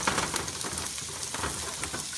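Chopped onions and garlic sauté in a pan for Kapampangan cooking, giving a soft, continuous sizzle with scattered crackles and pops at low volume, with no talk.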